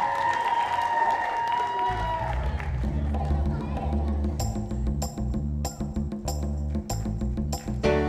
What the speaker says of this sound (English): Let's clap your hands, come on.